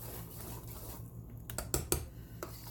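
Spoon scraping and clinking against a bowl while a bread pudding mixture is stirred, a few sharp close clacks over a low steady background hum, with no talking.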